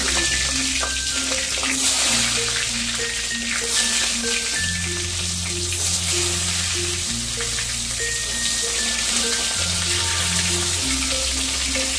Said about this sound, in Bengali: গ্যাসের ফ্লেমটাকে মিডিয়াম হিটে রেখে আমি এপিট ওপিট করে ভালো করে ভেজে নেব